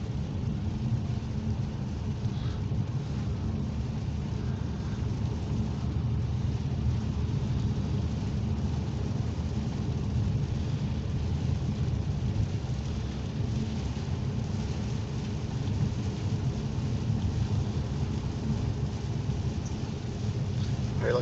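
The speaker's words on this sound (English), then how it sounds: "The size of those raindrops is the size of my thumb." Heavy rainstorm with thunder in Cornwall, large thumb-sized raindrops pounding steadily on a car throughout, with low continuous rumble of thunder and road noise underneath, loud and unbroken.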